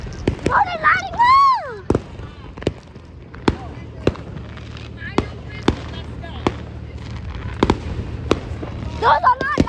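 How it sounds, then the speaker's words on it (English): Fireworks exploding nearby in a string of sharp, separate bangs at irregular intervals, with excited voices at the start and end. "Those are not lighting! Those are fireworks!"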